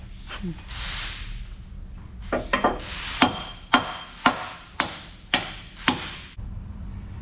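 A small sledgehammer strikes a stuck metal pin in a steady series of loud, sharp, ringing blows about half a second apart, after some scraping and shuffling at close range.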